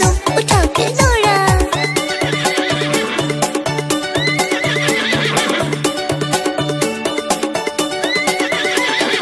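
A horse whinnies loudly at the start, followed by a steady galloping clip-clop beat under continuous music throughout the children's rhyme track.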